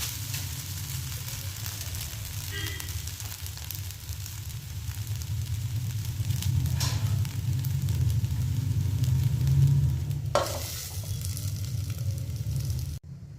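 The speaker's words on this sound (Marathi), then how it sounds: "आता परतून घेणार आहे आणि झाकून ठेवणार आहे 5 मिनिटं" Sabudana khichdi with a little sugar sizzles steadily in a pan as it is sautéed, a continuous close frying hiss with no one talking.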